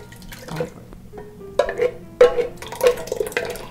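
Canned tomato sauce for chicken parmesan pours into a pot in a few wet glugs and splats, close and fairly loud, with scattered handling knocks around them.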